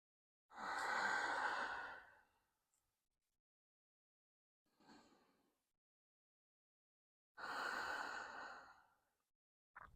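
Slow breathing during a yoga flow: two long, close exhales with a softer breath between, separated by silence.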